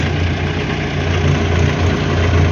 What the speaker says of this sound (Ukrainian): Попробуємо підняти навантажувач.